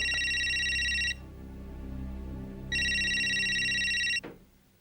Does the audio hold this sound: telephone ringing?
yes